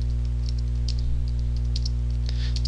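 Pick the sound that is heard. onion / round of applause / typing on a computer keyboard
typing on a computer keyboard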